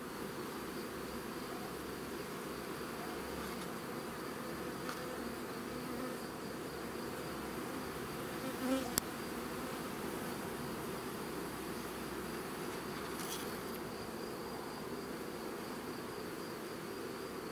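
A steady, dense drone of many honey bees buzzing close by in a hive, continuous and even for the whole stretch with no voices.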